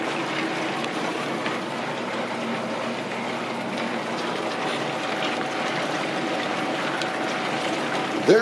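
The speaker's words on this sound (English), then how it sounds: "I'm going to go ahead and add the water to this and get it rolling." A rotary tumbler barrel turns obsidian with water and coarse grit, producing a continuous close, rumbling churn with a watery slosh that holds steady throughout, ending in a brief bump.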